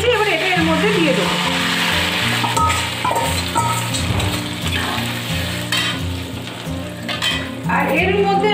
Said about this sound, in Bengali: তো দেখো এই আদা আর রসুনটা আমার ভালো করে ভাজা হয়ে গেছে।